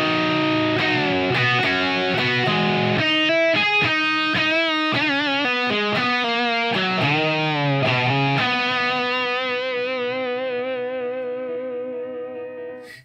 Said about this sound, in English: kind of nice the way these double stops blend with the distortion